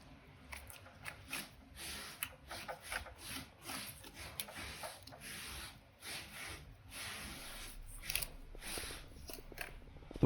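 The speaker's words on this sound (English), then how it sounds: "I'm gonna go ahead and start cutting this thing up" A knife fillets a white seabass with quiet, close, uneven scraping and slicing strokes that come in short bursts for several seconds.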